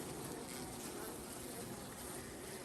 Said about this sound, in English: But boy, still a lot of bees.